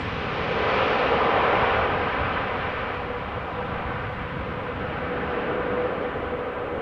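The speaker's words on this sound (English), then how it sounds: "KLM Dreamliner arriving from Cartagena in the meantime" A KLM Boeing 787 Dreamliner arrives at Amsterdam Schiphol on a crosswindy day, a broad, distant jet roar that swells to a peak and then fades slowly as the aircraft passes, with wind noise throughout.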